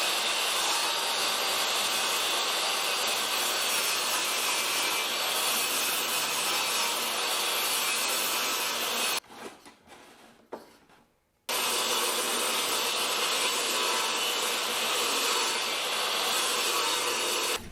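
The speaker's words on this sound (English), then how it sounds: "I think I'm going to go ahead and rip them down to 2 inches" A saw rips wooden boards lengthwise into 2-inch strips for baseboard trim in a home renovation, a loud, steady close-up whine and cutting roar that stops for about two seconds midway, then resumes at full strength.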